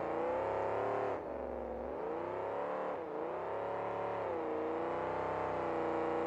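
A monster truck engine at full throttle in a 2002 video game, KORR Monsters, with a Pontiac truck, roars loud and steady throughout, dipping briefly twice before surging again.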